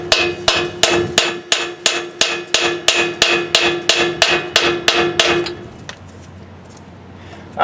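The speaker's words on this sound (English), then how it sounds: "Let me get a different hammer." A hammer strikes metal about fourteen times during a 2008 Chevy Suburban rear axle rebuild, in a steady, even rhythm, each blow a sharp ringing clang up close, then the blows stop and a quiet hum remains.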